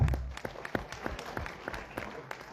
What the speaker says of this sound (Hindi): तो पहली बैच के लिए जोरदार ताली हो जाएगा।